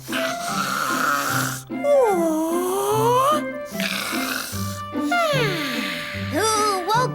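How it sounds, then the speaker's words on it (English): Exaggerated cartoon snoring from a character in a children's story show, loud rising-and-falling snores repeating over a bouncy musical backing, with no talk. "Who woke me up with that snoring?"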